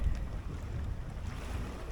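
Wind and roughly three-foot waves buffet a sailboat alone offshore in thick fog, blowing about 12 to 14 knots; a continuous low rumbling whoosh of wind noise and water, with no talk.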